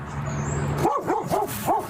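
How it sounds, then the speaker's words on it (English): A dog barks four times in a quick, evenly spaced run, loud and close, over a steady outdoor background hum. "There's a dog."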